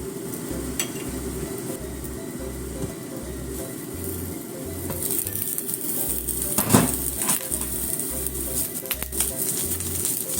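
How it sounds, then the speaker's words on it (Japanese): Eggplant fries gently in a pan for a sesame-flavored stir-fry, giving a steady, fairly quiet sizzle with occasional light clatter from the pan. "しばらく動かさないでそっと焼きますね。"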